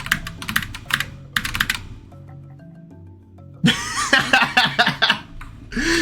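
Someone types into a chat box on a computer keyboard, with two quick bursts of clicking, a short lull, then a busier stretch of keystrokes mixed with a chuckle.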